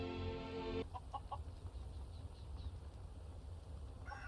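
A chicken in the video game Skyrim, near Shor's Stone, clucks in several short, soft bursts after a brief loud snatch of game music, set against a faint ambient hum.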